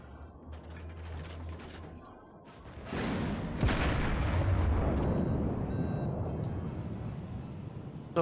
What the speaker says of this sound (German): die Kanonentürme drehen so langsam